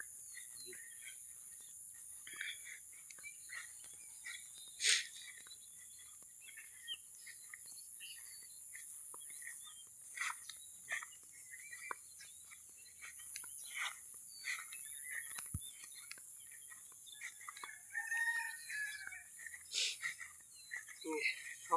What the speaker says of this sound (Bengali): তো সকালবেলা পাখিদের কিচির মিচির আওয়াজ শুনতে আমার কাছে ভালোই লাগে।